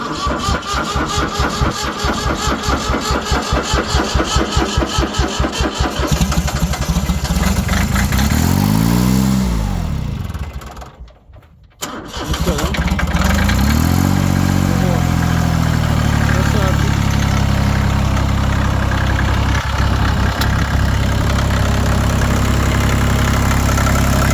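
A tractor engine runs with a rough, loud chugging idle, then cuts out briefly and restarts, rising in pitch before settling back into a steady idle close by, with people talking over it.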